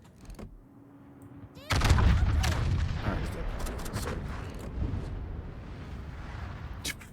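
Turret gunfire in a boat video game fires at a beached boat as dense, loud bursts that set in suddenly and continue, with a voice shouting over the shooting.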